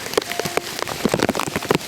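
Heavy rain pours down in a dense, steady hiss, near and loud, with scattered heavier drops pattering on surfaces at an Echo Point lookout.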